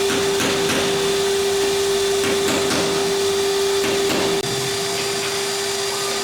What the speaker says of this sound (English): operating the sand beater blaster, which is causing most of the background noise